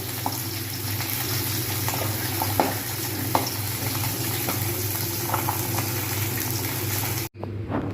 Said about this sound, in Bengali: এর মধ্যে তেল দিয়ে মাছ দেব তেল গরম হয়ে গেলে তারপরে মাছ দেবো মাছ ভাজা হচ্ছে